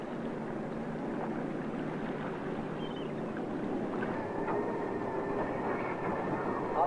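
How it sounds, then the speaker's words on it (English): Steady low engine rumble aboard a fishing ship at sea, with a persistent knocking from the engine running under a continuous drone, moderately loud and unbroken throughout. "becomes worried by a persistent knocking in the engine"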